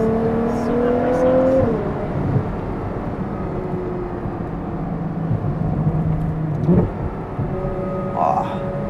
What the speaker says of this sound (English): you know how the exhausts are kind of off to the side? You can almost hear that